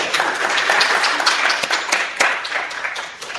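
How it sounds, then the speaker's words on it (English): A conference audience in Montreal gives a round of applause for two speakers. The dense clapping stays steady for a few seconds, then tapers off. "give us a round of applause for both Vinay and Ellen"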